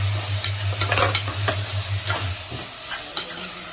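Tomato frying in a pan with onion and whole spices while being stirred, a steady close sizzle broken by scraping strokes of the spoon.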